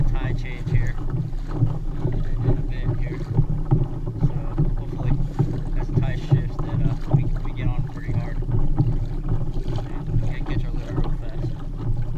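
Fishing kayak moving across water while fishing for tautog in calm conditions, with steady low rumbling water and wind noise throughout and no distinct paddle strokes standing out.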